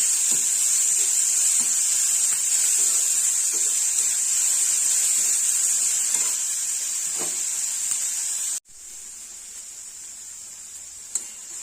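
Capsicum and onion sauté in a hot pan for corn schezwan fried rice, a steady bright hiss of sizzling with faint scrapes, which drops to a quieter sizzle near the end.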